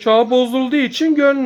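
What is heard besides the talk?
None of the usual background noises is heard.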